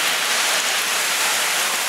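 Heavy rainstorm pouring down in a dense, steady hiss of rain striking surfaces, loud and close, with no other sounds or voices.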